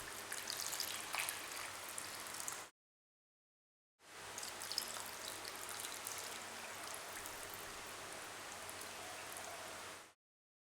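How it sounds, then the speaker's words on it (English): Steady splashing of water pouring into a pot of chicken, running continuously with a brief pause before resuming. "Now, add enough water to cover the chicken."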